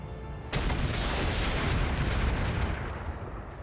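A volley of weapons fire from combat mechs aimed at a mortar carrier in a tactical video game erupts suddenly into a sustained, loud roaring rumble of blasts that slowly trails off.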